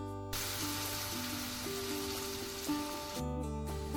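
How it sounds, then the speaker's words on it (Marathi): Heated oil poured over pickle spices of ginger, garlic and chilli with lemon juice crackles in a steady, close sizzle that continues throughout, with faint background tones. "आता आपण हे गरम केलेलं तेल टाकणार"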